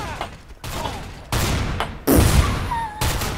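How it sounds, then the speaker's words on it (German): Gunfire in the video game Garry's Mod Trouble in Terrorist Town, several loud sharp shots in irregular bursts with abrupt cuts between them, close and punchy. "Zweiter Schuss war gut voll gemacht"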